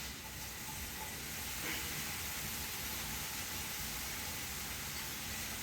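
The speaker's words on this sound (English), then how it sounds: "Mix up a few pieces of apple going in the pan. That's the sound you want to hear." A few pieces of apple sizzle in hot oil in a pan, giving a steady, dense hiss that holds evenly throughout with no talking.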